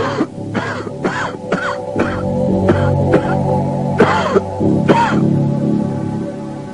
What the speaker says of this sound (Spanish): desencadenando la tos del fumador